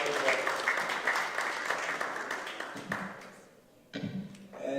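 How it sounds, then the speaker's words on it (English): A student audience at a student government vice-presidential debate gives a round of applause, dense clapping that thins out, dips near silence, then picks up again with scattered claps and murmuring voices. "Everybody give Amanda a big round of applause for doing well"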